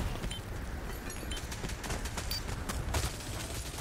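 Rapid gunfire in the Rogue Company shooter, a dense, continuous crackle of shots hitting the player at close range, loud and steady throughout with no talk.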